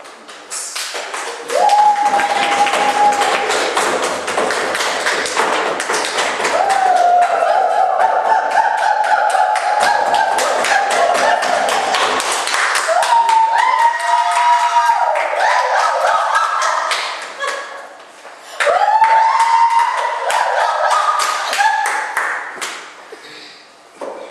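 Audience clapping for the cast of a stage play, dense rapid claps in long sustained bursts with a short lull before resuming, under a ringing whistled or sung tone.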